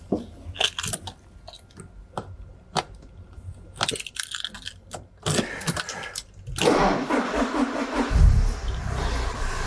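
Several clicks and clunks, then a car engine with multi-point fuel injection cranks and catches, settling into a steady running rumble for the last few seconds.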